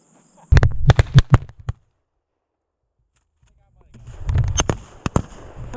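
Shotgun blasts at a European-style pheasant hunt: several sharp, loud reports in quick succession, then a silent pause, then another burst of shots mixed with outdoor noise.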